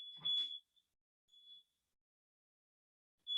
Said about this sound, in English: Is it a fire alarm? Yeah, I think my wife is trying to cook something downstairs.